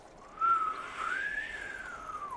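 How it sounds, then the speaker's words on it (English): An eerie whistle carried on the wind rises and falls in one long wavering tone, fairly loud and clear against a faint hiss, with no voices. "you hear a strange whistling"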